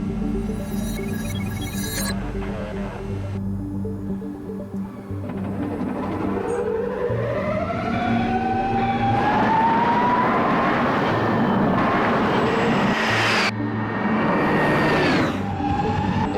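NIO EP9 electric supercar driving, its motors whining upward in pitch as it accelerates, loud and sustained over a steady road roar, with a brief sharp burst partway through.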